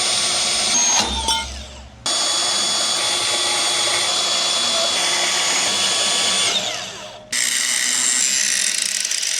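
A power tool grinds through the metal of a trailer tongue with a loud, high whining cut, briefly interrupted near the start, then running steadily before spinning down and starting again.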